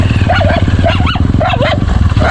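Several dogs bark and whine in short rising, yelping bursts, about four in quick succession, close by over a steady low engine drone.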